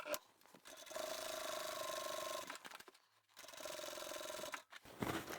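Home sewing machine top stitching close to the folded edge of a tote bag's lining, running in two steady stretches of a second or two each with a short pause between, near and alone.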